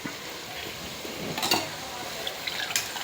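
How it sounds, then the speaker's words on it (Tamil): Beans, green chilli and carrot stir-frying in hot oil, with a soft steady sizzle and a few brief scraping stirs of a utensil in the pan. "பீன்ஸு பச்சை மிளகா கேரட்டு எல்லாமே நல்லா போட்டு அந்த எண்ணெயிலே நல்லா பரட்டு பரட்டிக்கணும்"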